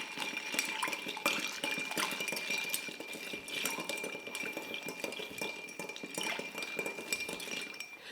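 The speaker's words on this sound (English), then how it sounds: "We're going to give this a stir. We're going to dilute that a little bit, and we're going to make it nice and cold." A bar spoon stirs an absinthe cocktail over ice, diluting and chilling it, giving a steady run of close, bright clinks and ice rattles against glass with no talking.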